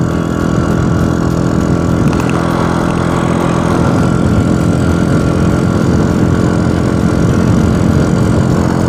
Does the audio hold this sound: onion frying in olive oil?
no